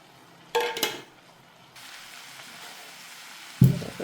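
Broccoli tumbles into a hot pan for a broccoli and pigeon pea sabji: a short clatter, then a steady, soft sizzle that holds for a couple of seconds before a final knock of the pan.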